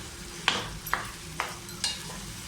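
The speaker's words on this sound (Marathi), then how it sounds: "भाजी अशी मिक्स करून घ्यायला लागेल." Ambadi leaf bhaji is stirred and mixed in a pan, four evenly spaced scraping strokes of a spatula over a faint sizzle, close and moderately quiet.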